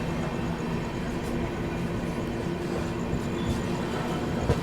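The Sampoorna Kranti Express (12394) runs at speed on rails near Kanpur, giving a steady, loud rolling rumble with faint rhythmic wheel clatter and no voices.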